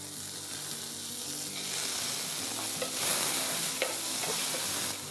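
Garlic fries with sautéed onions in a pan, a soft, even sizzle under faint stirring taps, fairly quiet and continuous.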